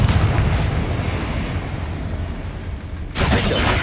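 Confringo blasting spell bursting in Hogwarts Legacy, a dense roaring rumble of explosive noise that sustains loudly, dips briefly, then flares again with a fresh sharp blast near the end.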